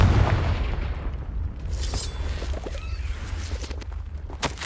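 Booming Confringo fire spell blast in Hogwarts Legacy, a heavy low thump up front followed by scattered crackling pops and rumbling debris, moderately loud with no voices.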